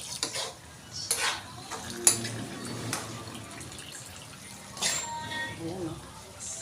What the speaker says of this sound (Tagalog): Haluin muna natin.